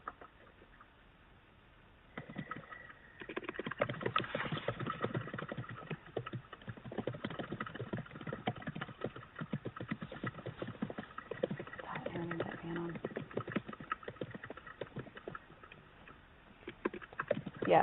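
Rapid, steady tapping on a computer keyboard, continuing for many seconds as a dense run of small clicks, thin and somewhat muffled, after a quiet opening.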